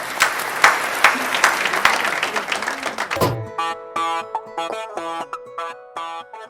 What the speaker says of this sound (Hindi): पूरा सदन जो हॉल बैठा है वो एक बार तालियां बजाकर अगवानी करे